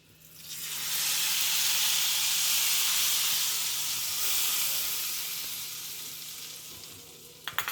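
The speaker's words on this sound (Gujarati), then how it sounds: "કાશ્મીરી મરચુંને પણ વઘારમાં સરસ આ રીતે મિક્સ કરી આ વઘારને આપણે દાળ પર રેડી દઈશું" Hot tadka of oil with Kashmiri chili poured onto dal, a loud steady sizzle and hiss that swells quickly, holds for several seconds, then slowly fades before a few clinks at the end.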